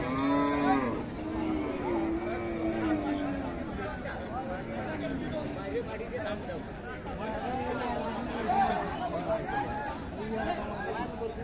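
Cattle at Aftabganj haat, a livestock market in Dinajpur, with a loud cow moo at the start and then a steady babble of buyers and sellers talking nearby.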